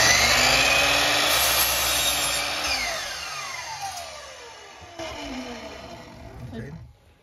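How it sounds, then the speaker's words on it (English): A miter saw cuts through wooden boards, its motor whining loudly at first, then the blade's pitch sweeps downward as it spins down and fades to silence, with brief voices nearby. "we're going to do the rest of the cuts here in the miter saw"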